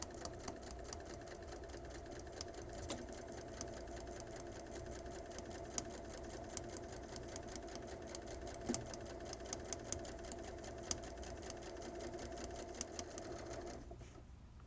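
A sewing machine stitches steadily around the curved edge of an in-seam pocket, its needle hammering in a fast, even rhythm close by for the whole stretch before stopping at the very end.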